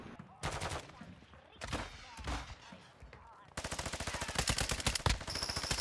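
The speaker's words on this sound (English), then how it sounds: "The bots are shooting at something over here." Bursts of automatic gunfire from bots in Call of Duty DMZ, scattered shots early on, then a sustained rapid rattle of fire that runs steadily to the end, fairly close and loud.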